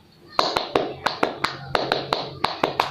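A group claps the Indonesian 'tepuk semangat' spirit clap in a school orientation session: about a dozen sharp, close claps in a tight repeating rhythmic pattern with short gaps, loud and clear.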